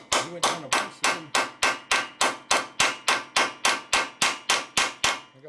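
A hammer striking a part on a 1965 Harley-Davidson panhead 74ci FLH motor during a rebuild: about sixteen sharp, evenly spaced metallic blows in a steady rapid rhythm, close and loud, with no talking.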